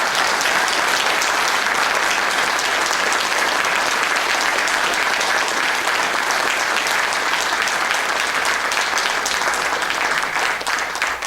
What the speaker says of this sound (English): I accept your applause for them